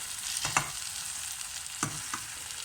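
Lamb shank meat frying in a pan for nihari, a steady broad sizzle with a couple of louder crackling bursts as the pieces settle, close and moderately quiet with no talking.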